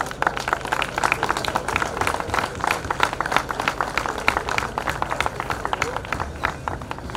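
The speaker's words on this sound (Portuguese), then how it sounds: "para a qual eu peço uma salva de palmas." Steady crowd applause at a cycling race prize ceremony in Porto and Vila Nova de Gaia, a dense rattle of many hands clapping together, moderately loud and continuous with no talk over it.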